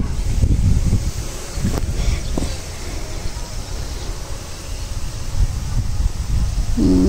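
Strong typhoon wind roars steadily and loudly across an open string bean farm, with gusty buffeting on the microphone and rustling plants throughout.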